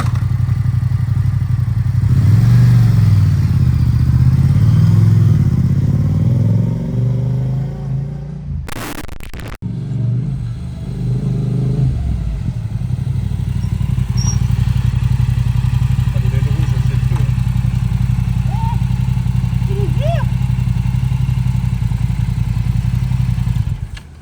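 A Yamaha R7 sport motorcycle engine runs loud and close, rumbling and rising in pitch as it revs, with a brief drop-out partway through before the engine roars on.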